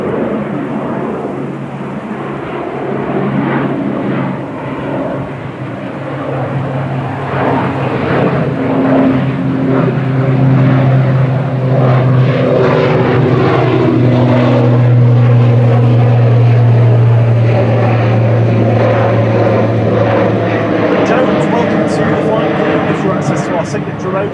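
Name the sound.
ATR 42-500 turboprop airplane at Manchester Airport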